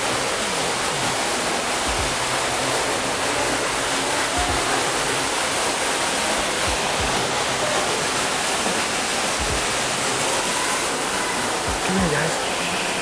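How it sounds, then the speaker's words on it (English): Standing at the base of a waterfall beside a cliff face, a loud, steady roar of falling water fills everything with broadband rushing noise and a few faint low thumps. "I bet it's getting kind of loud because we're at the bottom of the waterfall now"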